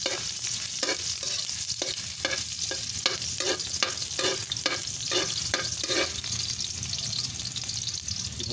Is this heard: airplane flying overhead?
no